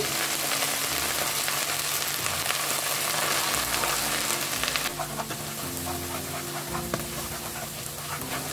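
Ginger and garlic paste frying with browned onions in a pot for chicken biryani, a steady close sizzle with stirring scrapes, and the tone shifts partway through.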